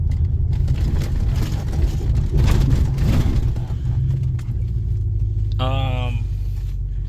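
Hemi pickup truck coasting over railroad tracks on new shocks, a steady low engine and road rumble inside the cab, with a short whining tone near the end and talk throughout.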